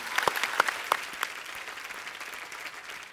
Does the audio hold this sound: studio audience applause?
yes